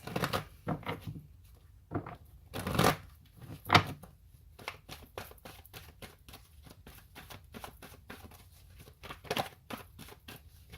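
A deck of tarot cards being shuffled by hand, with bursts of riffling and soft slaps separated by quiet gaps, then a run of rapid, evenly spaced flicks, close and fairly quiet, with no talking.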